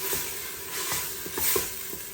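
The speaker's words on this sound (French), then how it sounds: "J'ai un oignon râpé ou mixé, comme vous voulez, que je fais revenir avec un petit peu d'huile." Grated onion frying gently in a little oil, a steady soft sizzle with faint scraping as it is stirred, close and fairly quiet throughout.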